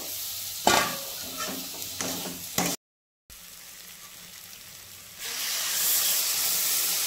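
Potatoes tipped into a pan of frying spice masala with Kashmiri chili powder, giving loud close sizzling and scraping stirs. There is a brief silent gap, then a steadier, stronger hiss of frying.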